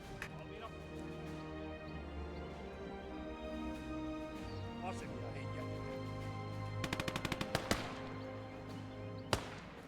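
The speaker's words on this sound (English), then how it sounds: "Shoot out the windows." Gunfire in a video game shoots out house windows: a quick string of sharp shots, then a single louder crack a few seconds later, over steady game background and voice chat.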